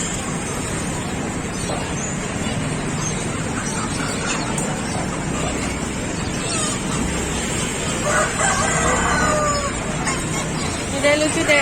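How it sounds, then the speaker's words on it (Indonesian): Ducks at the Kebayoran bird market keep up a busy chorus of quacks and clucks amid crowd chatter and market bustle, with people talking nearby. "Bebeknya banyak banget."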